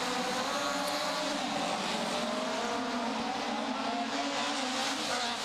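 Front-wheel drive rallycross race cars roar around the Estering circuit, a distant, sustained engine howl with faint tire noise, continuous and fairly quiet.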